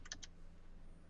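Quick clicks of keys on a computer keyboard while someone searches Google, a couple of short taps near the start and then quiet room hum.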